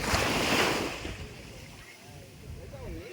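Sea waves wash onto a beach in a loud rushing surge that fades into a softer hiss, with wind noise and a faint voice in the background.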